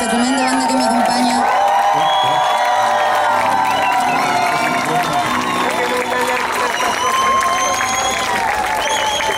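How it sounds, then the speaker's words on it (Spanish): A concert audience at a beer festival in La Serena applauds and cheers for the band: loud, continuous clapping with whoops and crowd shouting, while music tones ring on under the noise. "Quisiera un tremendo aplauso para esta tremenda banda que me acompaña"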